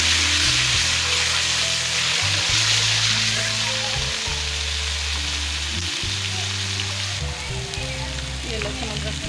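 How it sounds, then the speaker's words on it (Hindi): Garlic and ginger sizzle and fry steadily in a pan for pulao, a dense continuous crackle throughout with low tonal hum underneath and no speech. "ये लहसुन अदरक फ्राई हो गया।"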